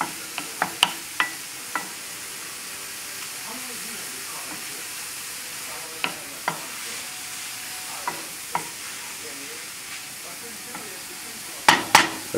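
Shirataki noodles fry in a pan for a wakame bean sprout soup, giving a steady low sizzle broken by scattered sharp pops and stirring clicks, busiest at the start and close to the end.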